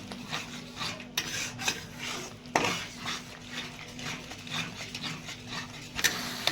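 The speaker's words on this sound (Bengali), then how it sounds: "এবার আমি 2 মিনিট" Fish curry gravy with cashew paste is stirred in a pan, giving scraping and rasping metal-on-pan strokes with occasional sharper clinks, fairly quiet and continuous, with no talking.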